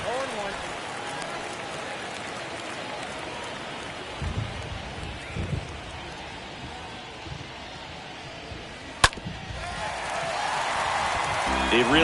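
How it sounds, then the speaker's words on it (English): Steady rain hiss falls across a baseball video game broadcast of the San Francisco Giants against the Atlanta Braves, with faint crowd noise, a few low thumps and one sharp click near the end. "This rain is not letting up."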